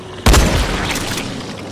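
The Ox cannon in the Dying Light video game fires once with a sudden heavy boom, followed by a rumbling tail that fades slowly.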